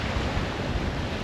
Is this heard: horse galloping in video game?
no